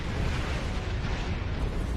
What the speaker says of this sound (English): Voss' ship is set to self-destruct. We should exit its explosion range before it blows.